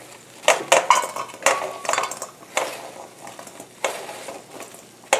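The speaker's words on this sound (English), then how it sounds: "Sizzling, sizzling, ouch." Crackling sizzle of thin potato slices frying in a hot pan, with scraping and clinking of a utensil against the pan in irregular bursts.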